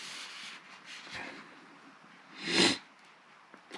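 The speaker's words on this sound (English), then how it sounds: "I'm sorry I'm sniffing." A person indoors sniffs several times through the nose, close and quiet, with one sharper, louder sniff near the end amid faint room noise.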